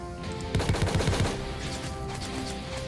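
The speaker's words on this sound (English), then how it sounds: "If I were to fire the assault right now" An assault weapon fires in the space strategy game Sunrider 4 as a rapid burst of close, punchy shots lasting under a second, followed by a fading rumble and echo.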